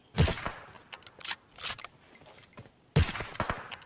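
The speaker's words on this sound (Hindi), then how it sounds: "तो वो भी हमको फायर करते हैं" Enemy gunfire in the PUBG Mobile battle royale game, sharp bursts of shots and short volleys with a quieter scraping gap between them, close and loud, no talk.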